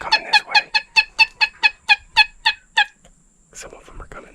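A wild turkey gobbles in a rapid run of about eleven loud, close gobbles, each a sharp rattling burst, then goes quiet before a softer call or two near the end.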